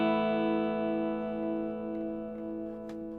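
Electric guitar played through a Lekato Pogolab mini amp, a sustained strummed chord ringing out and slowly fading, with a few faint string noises near the end.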